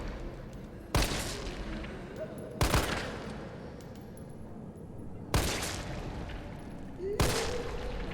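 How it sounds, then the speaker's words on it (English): Gunfire in the Resident Evil 3 Remake video game: four sharp, loud shots spaced a second or two apart, each with a brief ringing tail over a steady low background rumble. "I got plenty of bullets, so sure, let's just keep shooting"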